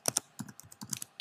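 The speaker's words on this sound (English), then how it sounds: "We're going to type in CM" Quick bursts of computer keyboard typing, a handful of crisp close key clicks in an uneven rhythm, with no voices.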